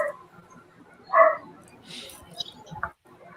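Dogs on a property give a single short bark at a moderate distance, with a few fainter yips afterward, while people talk nearby.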